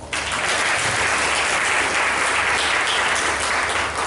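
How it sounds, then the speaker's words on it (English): An audience at an education funding event claws into loud, continuous clapping that starts abruptly and stays dense and even for about four seconds. "So clap for yourself."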